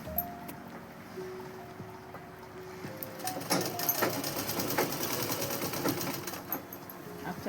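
A sewing machine stitches a coat suit with a continuous, fast, rattling whir up close, its pace shifting slightly as it runs, while a person speaks quietly at times.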